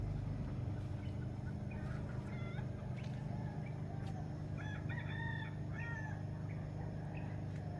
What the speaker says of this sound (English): Those roosters are loud.